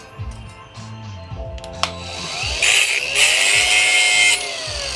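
A grinder bites into brass scrap from an XM satellite radio antenna during a grind test, its steady high whine and rasping grind building and holding loud after a few faint knocks and a soft voice.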